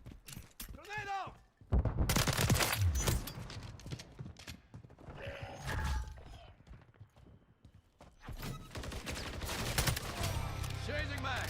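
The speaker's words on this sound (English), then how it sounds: "Taking effective fire." Gunfire in a shooter video game, sharp bursts and volleys scattered across the clip amid game sounds and effects, with a voice talking at the start.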